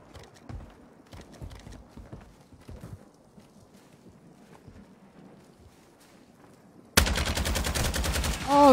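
A gun fires in a video game: after scattered soft thuds and footsteps, a sudden loud burst of rapid automatic shots rattles continuously for the last couple of seconds.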